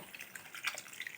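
Water poured into a pan of drumstick and raw prawn curry, a brief close trickling splash with small drip-like bursts.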